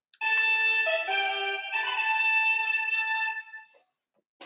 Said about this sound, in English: He played his dagger that had a built-in flute that sounded like a trumpet